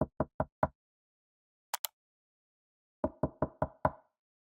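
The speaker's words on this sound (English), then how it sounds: "Don't make something like a knock on a door feel like it's happening inside a vacuum" Knocking on a door as a sound design example: a quick group of four sharp raps, two faint taps, then a longer burst of five knocks with a slight roomy ring, each crisp and close against silence.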